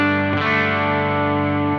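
A single electric guitar chord, strummed through a pedal with slight overdrive breakup and a touch of chorus, rings out steadily and close for just under two seconds with no talking.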